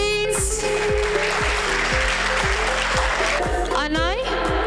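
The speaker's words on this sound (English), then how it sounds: "Kids, once again, please a big round of applause for these lovely kids, please." An audience at a children's annual celebration applauds the kids, a broad wash of clapping under a loud, steady musical beat and a voice on a microphone.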